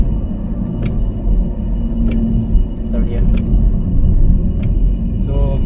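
A car rolls along a road at night past fallen trees, its steady engine rumble and tyre noise continuous and close, with brief talk from occupants over the drone.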